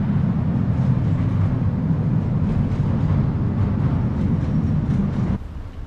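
A local train rumbles steadily through narrow residential streets in Porto, Portugal, a loud, continuous low-pitched roar of wheels that cuts off abruptly near the end.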